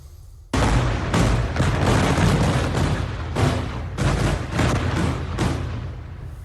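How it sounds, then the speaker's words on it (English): Massive explosions from airstrikes on Beirut heard in news footage, a sudden onset of heavy booming blasts and rumbling detonations in rapid succession, loud and sustained with repeated surges, no voices. "stunning new video of those massive explosions that rocked the Lebanese capital of Beirut today"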